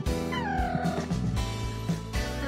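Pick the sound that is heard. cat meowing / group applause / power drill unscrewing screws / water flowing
cat meowing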